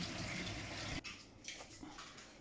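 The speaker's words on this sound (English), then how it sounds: "I've now filled it up with hot water" Hot water pours into a container for cider making, a steady splashing fill that cuts off abruptly, followed by scattered quieter trickles and clinks.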